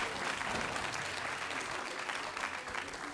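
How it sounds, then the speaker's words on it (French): An audience at a school theatre show applauds with sustained, dense clapping from many hands, loud and even for over three seconds with light crowd murmur mixed in. "On peut l'applaudir."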